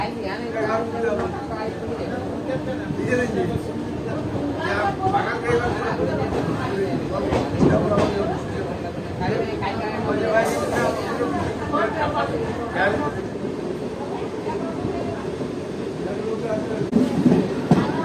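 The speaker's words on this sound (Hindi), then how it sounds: "ट्रेन खुल गई पाथरडी बाजार रेलवे स्टेशन से।" A passenger train pulls out of Pathardih Bazar railway station, its steady rumble and rail noise rolling continuously beneath nearby talk and passenger chatter.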